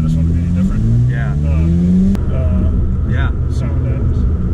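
A 2023 Corvette Z06 prototype engine revs hard at peak power, a loud rising tone that steps up in pitch, then cuts and settles into a rough idle rumble, with people talking over it.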